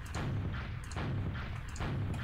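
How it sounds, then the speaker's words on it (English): Rocket launcher shots in a rocket-jumping video game: three rapid, evenly spaced muffled booms in a row, each a short blast with a low rumbling tail, fairly quiet overall and with no talking. "Shoot a rocket kind of before you hit here."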